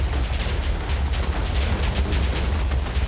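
Explosions in Minecraft roar as a dense, continuous low rumble with rapid overlapping blasts, loud and steady for the whole stretch, with no voice over them.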